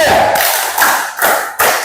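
A classroom group claps together in a counted pattern led by a teacher. Loud clustered bursts of claps arrive in a few rhythmic groups separated by short pauses, with some voices mixed in.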